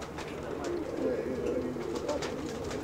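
Pigeons cooing inside a loft, soft repeated throaty coos close by over a low background murmur, with faint voices now and then.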